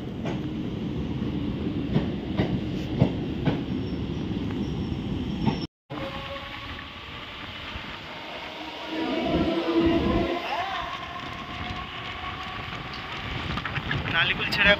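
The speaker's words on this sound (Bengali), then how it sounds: "নালিকুল ছেড়ে এখন ট্রেন যাচ্ছে," A local train leaves Nalikul station, a continuous rumble and rattle of carriages heard from onboard, with wind buffeting the microphone and a brief dropout midway.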